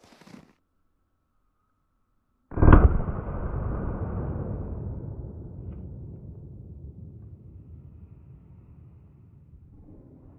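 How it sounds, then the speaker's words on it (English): A single loud gunshot from a .45 Colt Smith & Wesson Governor revolver fired into MDF, a sharp blast followed by a long rumbling decay with no talking. "All right, 45 Colt through our MDF."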